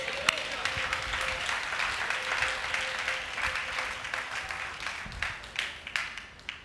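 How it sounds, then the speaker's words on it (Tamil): A congregation at a Tamil worship service claps together, the sustained applause gradually thinning into scattered claps toward the end, with voices heard over it. "கைத்தட்டுங்க."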